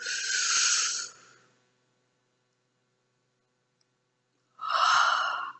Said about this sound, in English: Pull that breath in.